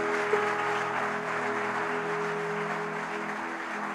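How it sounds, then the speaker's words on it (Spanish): A church congregation gives steady, even applause during a service, a continuous moderate clapping texture mixed with sustained organ or keyboard tones. "Dale un aplauso al Rey bendito."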